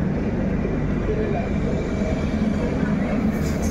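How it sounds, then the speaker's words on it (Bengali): The Coromandel Express halted at a station in India, with a steady deep rumble and rolling clatter from the rails and carriages, continuous and loud at close range. "তো এই ট্রেনটা আর কি স্টেশনে পৌঁছানোর পরেই আমাদের ট্রেনটা আবার ছাড়বে।"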